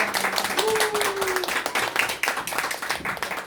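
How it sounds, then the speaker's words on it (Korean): Applause from an audience at a church fellowship annual meeting and year-end gathering, a dense, steady patter of clapping that fills the room, with a brief voice underneath. "총무님께 크게 박수 한번 부탁드립니다"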